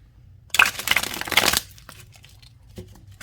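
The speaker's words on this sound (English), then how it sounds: "We'll give it a good shuffle and see what we get." Cards being shuffled up close: a dense riffling burst lasting about a second, then quieter handling and a soft tap. The cards are a tarot deck.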